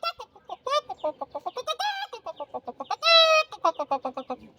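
A voice imitates a chicken's call: quick, close, repeated clucks broken by a couple of long, strained squawks, loud and alone.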